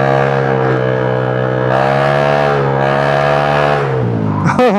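A Honda Giorno scooter, bored up from 125 to 160cc, revs hard and holds high RPM with a loud buzzing engine note, then blips sharply near the end, close and alone.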